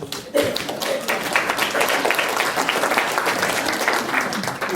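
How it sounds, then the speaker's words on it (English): An audience claps at a spiritual gong ceremony, a dense, loud sustained round of applause starting abruptly after a brief quiet moment and continuing with scattered taps and thuds. "We clap for the hope of that prophecy then."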